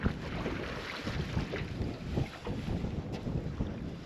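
Wind blowing across a lake during bass fishing from a boat, a steady gusty rush with low rumbling buffets close to the microphone and no voices.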